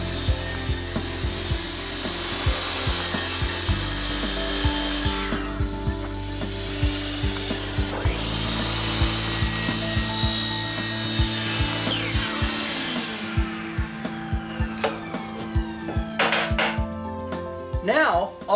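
Handsaw cutting through a PVC roller coaster track pipe, trimming about an inch from the outer wall; steady rasping strokes run throughout, loud and close, with low background hum and a few sharper scrapes near the end.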